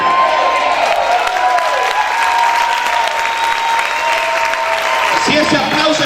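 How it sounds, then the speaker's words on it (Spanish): A church congregation bursts into loud, sustained applause, a dense wash of clapping with some cheering, filling the room and close to the listener throughout. "Si ese aplauso es para el Señor, déselo fuerte"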